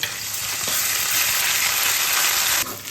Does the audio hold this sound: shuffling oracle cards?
no